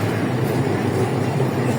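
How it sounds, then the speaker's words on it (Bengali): A train rolls slowly across the Jamuna bridge, a loud, steady rumble of wheels and carriages heard from on board, dense and continuous throughout. "আমাদের ট্রেনটি ধীর গতিতে চলছে যমুনা"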